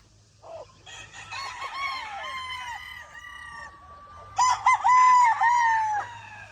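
Young gray roosters (stags) crowing in a farm yard: two long, wavering crows with clucking sounds around them, the second crow louder and closer.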